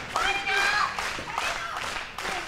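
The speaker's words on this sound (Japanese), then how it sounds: "場内から自然発生的に拍手が巻き起こっている。" Scattered clapping from a pro wrestling arena crowd, a broad wash of hand claps under a voice speaking over it.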